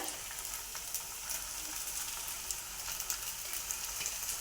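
Veg fried rice with coriander being stir-fried in a pan, a steady close sizzle with light scraping and tossing sounds throughout, no voices.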